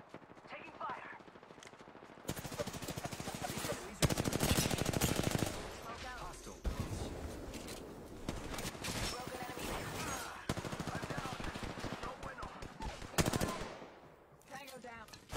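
Rapid automatic gunfire from a battle royale shooter, Apex Legends, rattles in dense sustained bursts with brief pauses, loud and close, while a player's voice speaks intermittently over the shooting.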